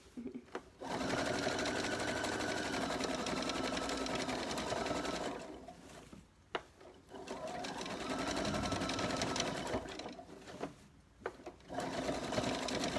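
A sewing machine stitches a children's t-shirt dress in long, steady whirring runs, close and loud, with two brief pauses between bursts and no talking.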